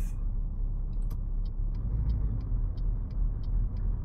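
A heavy truck in Euro Truck Simulator 2 idles and starts pulling away, a steady low engine rumble with faint regular ticking clicks over it, constant and close throughout.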